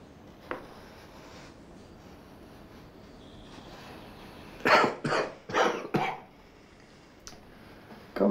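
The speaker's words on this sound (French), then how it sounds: "Comment arrêter cette toux?" A burst of several quick coughs in a row from one person, fairly close, against a quiet room background, with a faint extra cough later.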